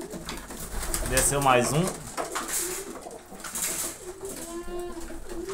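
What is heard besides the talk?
pigeons arriving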